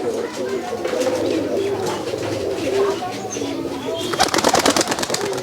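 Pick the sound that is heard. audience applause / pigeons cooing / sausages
pigeons cooing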